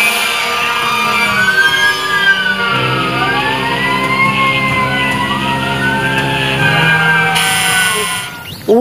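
A toy fire engine's electronic siren wails in rising and falling sweeps, loud and close, over a steady motorized hum for most of the stretch before cutting off near the end.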